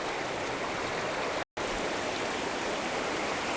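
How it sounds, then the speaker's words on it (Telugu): River water flows beside a riverside stay at Srirangapatnam near Mysore, a constant even rush heard alone with one brief dropout. "చూడొచ్చు అలా వాటర్ సౌండ్ ఎలా వస్తుందో"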